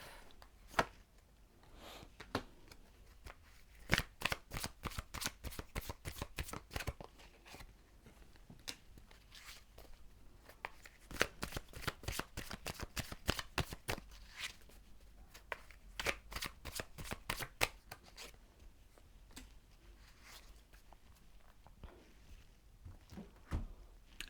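Tarot cards being shuffled during a love reading, a long run of crisp riffling bursts that start and stop in clusters, close and moderately loud, with no talking.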